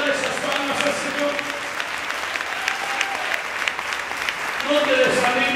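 A church congregation at a thanksgiving service claps steadily together, a busy wash of palms with faint voices and musical tones underneath, swelling slightly toward the end.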